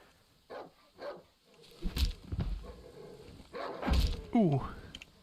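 Dog in the horror game Darkwood, a few short, muffled barks and thuds spread through the moment with other game noises, while a person speaks briefly.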